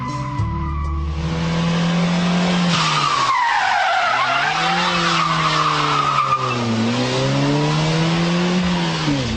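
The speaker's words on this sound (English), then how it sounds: "trying to drag along locked rear wheels" A Ford Puma's tyres skid and squeal as it drags along on locked rear wheels, a sustained loud screech with wavering pitch over engine noise.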